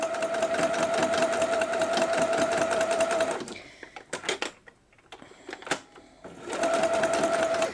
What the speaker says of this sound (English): you can start sewing. And again, we are going to do some chain stitching.